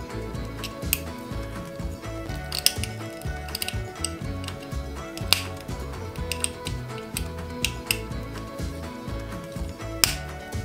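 Small screws are driven into a plastic RoboCop model kit, giving repeated faint ratcheting ticks and light clicks at a steady pace, heard close and quiet.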